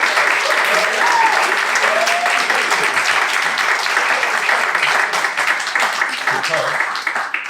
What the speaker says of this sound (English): we really need to give a big round of applause